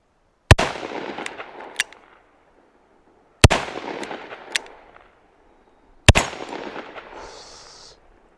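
Three loud, sharp .357 Magnum shots from a Smith & Wesson 586 L-Comp revolver fire outdoors, evenly spaced about three seconds apart, each followed by a long echoing decay and quiet between.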